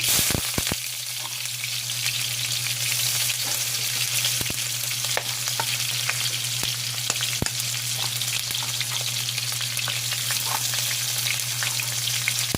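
Garlic sautés in a hot pan with a steady, even sizzle throughout, broken by occasional clicks and scrapes of stirring under a faint low hum, with no talking.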